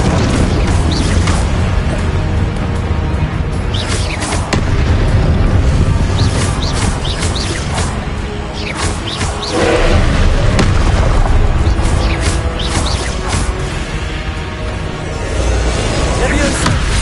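Confringo spell explosions during combat in the game Hogwarts Legacy, a dense run of loud booms and bursts over a rumbling battle din, with voices calling out amid it.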